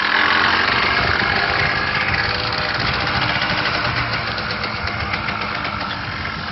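ATV engine running loud and close with a rough, throbbing rumble as the rider gives more gas, holding steady and easing off slightly toward the end, with no speech.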